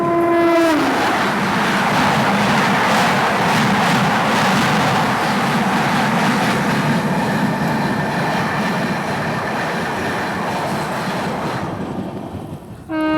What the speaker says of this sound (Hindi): तो अभी हमारे ट्रेन की क्रॉसिंग हो रही है गोंदिया जंक्शन बरौनी एक्सप्रेस के साथ।